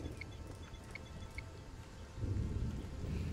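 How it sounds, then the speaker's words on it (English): Steady rain falling in the alien-planet survival game Stranded: Alien Dawn, a soft continuous patter with a few faint tonal chimes early on, growing heavier and louder partway through, no voices over it. "Rain."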